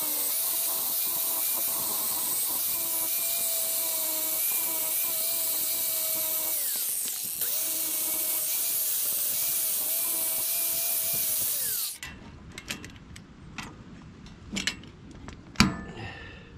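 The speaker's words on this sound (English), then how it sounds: "Let's grind this off and try again." An angle grinder works a weld on a damaged trailer, giving a loud, steady, high-pitched grinding whine that dips and rises under load, then cuts off into scattered metallic clanks and taps.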